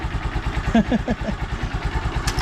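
Honda Supremo motorcycle with a hard-starting fault running at idle close by, a steady rapid putter with a brief voice over it midway.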